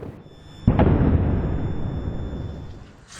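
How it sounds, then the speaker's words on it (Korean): A sudden explosion amid Israel-Hezbollah fighting in Lebanon hits with a sharp, loud blast, then a long, rumbling roar of flames and debris that slowly fades. "폭발음과 함께 화염이 치솟습니다."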